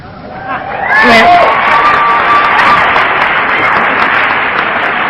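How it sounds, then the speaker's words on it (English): Audience applause and cheering at a sobriety talk swells after about a second into loud, sustained clapping with some whoops, continuing steadily to the end. "Trust me, you're clapping for yourself"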